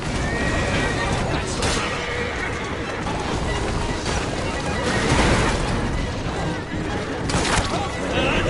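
Horse-drawn carriages rattle through the streets of Victorian London in Assassin's Creed Syndicate, with horses whinnying loudly, hooves clip-clopping and wheels rumbling, mixed with game noise and talk.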